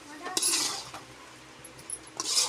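A spoon stirs palak spinach poriyal with masala in a cooking pan, giving a few clinking metallic scrapes and taps near and fairly quiet, bunched at the start and end.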